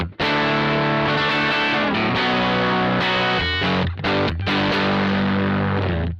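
A distorted electric guitar played on the bridge pickup through a Marshall JTM 1 50th Anniversary valve head, crunchy rock-style chords ringing loud and sustained with a few brief breaks between strums.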